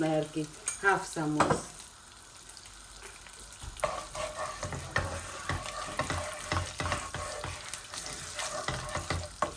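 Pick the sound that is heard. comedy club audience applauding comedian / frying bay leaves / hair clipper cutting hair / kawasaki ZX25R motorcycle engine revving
frying bay leaves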